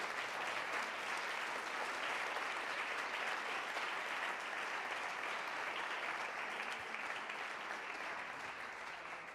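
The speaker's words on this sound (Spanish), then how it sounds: "Le damos un aplauso bien fuerte al Rey." Sustained, loud applause from a church congregation, a dense wash of many hands clapping at once that holds steady and tapers slightly at the end.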